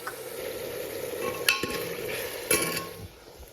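Vegetables are tempered, sizzling and frying in a pan with a steady hiss, broken by a couple of sharp metallic clinks from a utensil stirring.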